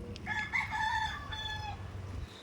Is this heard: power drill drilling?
no